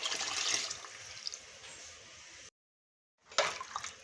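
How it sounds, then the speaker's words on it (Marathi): Water splashes and pours into a pot of amti, a spiced lentil curry, then a short silence before more pouring and bubbling. "या आमटीत पाणी टाकून घेऊयात"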